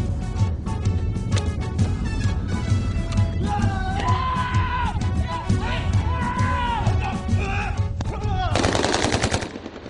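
Sustained automatic gunfire crackles through commando marksmanship training with SSG troops, rapid bursts running densely for the whole stretch over a rumbling low end, with a brighter, louder burst near the end and music playing beneath.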